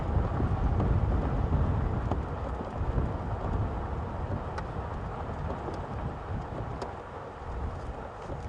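Strong wind in South Africa's Sabi Sands buffets the microphone in a continuous low roar, gusting heavier at first and then holding steady throughout.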